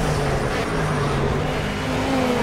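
A race car engine in a racing video game roars loudly and continuously at high revs, a steady buzzing drone with shifting pitch tones and no pause.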